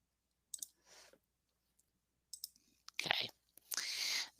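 Mouse clicks deleting items in WordPress, a few short, sharp taps spaced apart, close and quiet, mixed with soft breathy vocal sounds.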